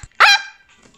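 A single sharp cartoon dog bark from the video game Stumble Guys, loud and close, then a brief fading tail with faint background game sounds.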